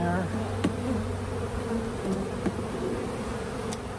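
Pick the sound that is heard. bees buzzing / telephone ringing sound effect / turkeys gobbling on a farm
bees buzzing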